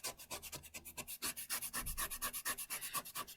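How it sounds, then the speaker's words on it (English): Sandpaper clogged with dust is rubbed in quick, even back-and-forth strokes, a soft, close, rhythmic rasping heard alone without any voices. "The sandpaper looks like it's getting clogged up, but it's not."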